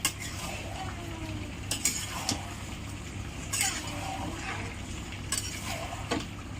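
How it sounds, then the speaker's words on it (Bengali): Chicken meat being stirred in a cooking pot for a village-style curry, repeated scraping and clinking of a spoon against the pot over a low background sizzle, close and fairly quiet, with no voices. "এখন আগলা করে নাড়িয়ে দেবো মাংসটা"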